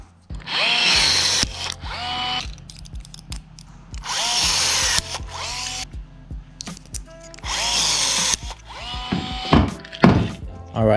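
A power tool drives rivets to fasten a strut piece onto a jon boat, with three loud whirring bursts separated by pauses, clanks and handling thuds, and a final run of sharp knocks.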